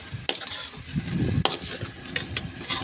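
Raw mango pickle pieces frying in hot oil in a pan, a soft steady sizzle broken by a couple of sharp stirring scrapes, close and fairly quiet, no talking.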